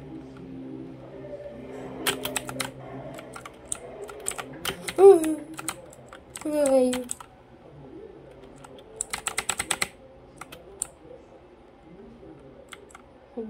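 A computer keyboard clatters in quick bursts of key presses while playing Roblox, with a brief exclamation and other short voice sounds between the typing.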